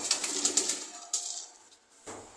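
Pigeons in a loft at feeding time give a few soft, close coos and rustles, fading to near quiet before another short burst of movement.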